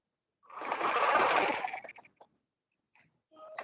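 A sewing machine stitching a gown made of Ankara fabric whirs in one steady run of about a second and a half, close and clear, followed by a few short ticks and a brief restart.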